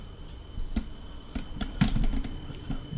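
Crickets chirp in steady high-pitched bursts, close and continuous, over a faint low background rumble with no voices.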